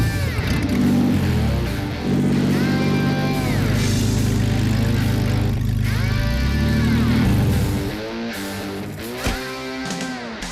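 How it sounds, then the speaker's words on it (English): A petrol engine on a scrapyard-built fire engine struggles to run, revving unevenly with a loud, rough drone that surges and dips over about eight seconds before dropping to a lower, sputtering idle. "Kevin Fraser may have found their fire engine, but it sounds like the engine's in need of an ambulance"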